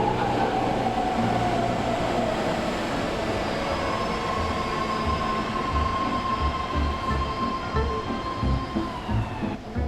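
A BART train rumbles steadily nearby at the Coliseum station, wheels and motor droning with faint high squeals and hum, continuous for the whole stretch.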